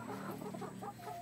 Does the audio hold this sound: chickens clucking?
yes